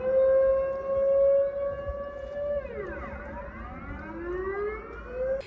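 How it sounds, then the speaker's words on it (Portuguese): A loud outdoor civil defense siren during a monthly test in the Netherlands wails on a steady pitch, dips and falls away, then rises again, sweeping as the horn rotates. "Toda primeira segunda-feira do mês toca essa sirene."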